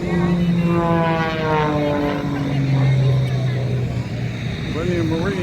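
Propeller engine of a small plane, a Cessna 172, at a Marine Corps air station air show, a steady loud drone with shifting tones, with a person talking over it.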